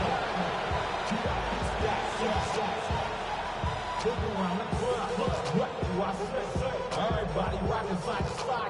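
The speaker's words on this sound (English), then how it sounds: "Not quite the same roar out of the crowd, Kate, that you're going to get with a touch" Stadium crowd at an NFL Dallas Cowboys game, a dense continuous murmur and roar of spectators with rhythmic thumping throughout, steady and moderately loud.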